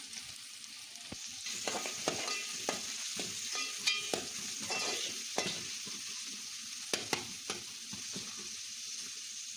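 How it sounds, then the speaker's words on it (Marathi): Sliced onions fry in a little oil in a cooking pot for a prawn biryani, a steady close sizzle broken by repeated scraping knocks of a stirring spoon against the metal. "आता एका टोपामध्ये 2 चम्मच तेल टाकून 2 कापलेले कांदे त्यात चांगले परतवून घेत आहे"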